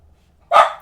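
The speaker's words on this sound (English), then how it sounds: "Sorry for the dog barking." A single short, sharp dog bark rings out indoors after near silence, loud and close, with a brief tail fading out.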